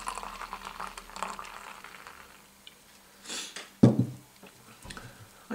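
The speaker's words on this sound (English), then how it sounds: "here's a pour. Put it in my Great British Beer Festival glass" Courage Directors Ale poured from a bottle into a Great British Beer Festival glass gives a steady liquid trickle and fizz, with a louder splash and clink partway through.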